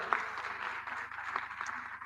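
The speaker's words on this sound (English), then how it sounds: "Give big applause" Faint applause from an audience at a 2026 milestone celebration event, a steady, even patter of many hands clapping at a distance for about two seconds.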